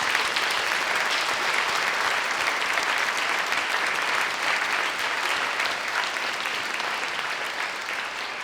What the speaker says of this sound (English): So let's give them a huge clap